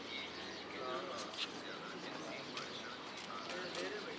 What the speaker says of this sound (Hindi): ये नवाब शाहजहां खां के बेसिक जो ये कबूतर हैं